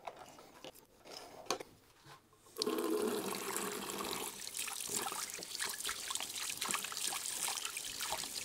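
Warm tap water runs steadily from a faucet while a Swiss Army knife is washed by hand, starting with a few quiet splashes and then a loud, continuous rush of flowing water.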